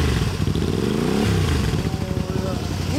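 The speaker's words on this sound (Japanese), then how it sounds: "エンジンを聞かせてもらえる？" A Honda Xelvis MC25 250cc V-twin motorcycle with a Realize aftermarket exhaust muffler idles and revs loudly close by, its throbbing engine note rising and falling, with people talking over it.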